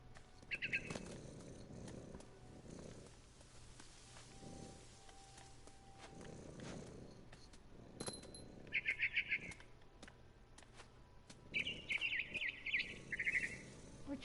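Bird chirps from the video game What Remains of Edith Finch come in short bursts of quick twittering at about 1, 9 and 12 to 13 seconds, over a low ambient game hum with no talking.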